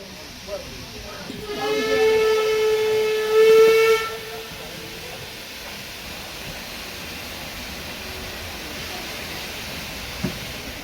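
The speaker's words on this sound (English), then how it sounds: "Underway, bang on time, we depart the station platform gently up the light grade" A vintage British steam train pulls away from a station platform up a light grade with a rising chuff and a long whistle blast, then settles into a steady distant rumble.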